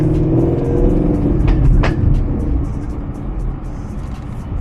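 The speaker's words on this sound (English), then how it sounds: "Hearing that V8 go is just something else." A loud, rumbling V8 engine of a Shelby GT350 revs and growls up close, its throaty roar rising and then settling into a deep idle.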